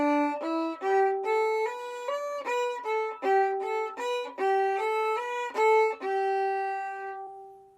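A fiddle plays the opening two measures of Highway 52 Rag as a run of even eighth notes, each bowed note distinct and bright, moving in a steady rhythm before a final held note fades out; no talk.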